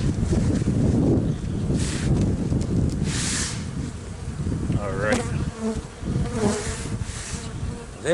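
Honeybees swarm at an open backyard hive during a March inspection, a dense, loud droning buzz close to the microphone with individual bees whining past, over light wind rumble, continuous throughout and with no talking.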